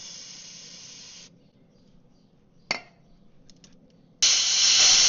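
Compressed air blasts grease off a bulldozer in two long, loud hissing bursts, one at the start and one at the end, with a short sharp puff between them and quiet idle noise in the gaps.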